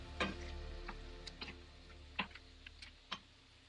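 Chicken pieces half-fry in a pan with a quiet sizzle, broken by sharp, scattered pops and crackles heard up close.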